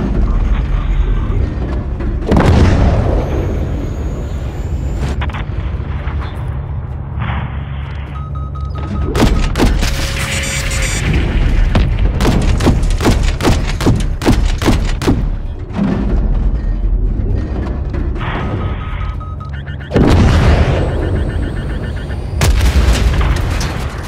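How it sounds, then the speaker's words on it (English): Heavy missile strike explosions and artillery-like booms in the Modern Warfare 3 (2023) campaign, loud and close, repeated in bursts with sharp cracks of gunfire between them and voices talking over the battle. "Drop a missile on that fucker."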